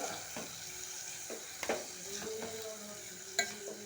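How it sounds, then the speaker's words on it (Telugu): Moong dal fried with ridge gourd in a pan, a soft continuous sizzle broken by a few clinks and scrapes of a spoon stirring, heard up close and fairly quiet. "పెసరపప్పు అండి పెసరపప్పు వేస్తున్నాను పెసరపప్పు"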